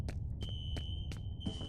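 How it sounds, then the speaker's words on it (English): Fire alarm in the video game F.E.A.R., a high electronic tone sounding in repeated short bursts, about four pulses, over a steady low game rumble. "Can we turn off the fire alarm, please?"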